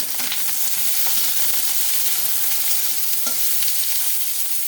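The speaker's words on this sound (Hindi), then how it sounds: "और अब मैं डाल दूंगी प्याज" Sliced onions sautéing in a pan for red sauce pasta give off a loud, steady sizzle throughout, broken by a few soft clicks of stirring, with no talking.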